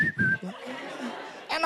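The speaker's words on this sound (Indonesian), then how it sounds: "Kerjaan gue cuma siul doang itu di panggung." A comedian whistles a tune on stage at an Indonesian stand-up show, short clear whistled notes followed by audience chuckles and murmuring.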